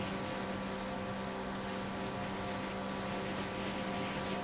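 Jet-powered boat racing across water in Far Cry 5, its engine a steady, loud, unbroken roar with a droning tonal whine holding constant throughout, no voices.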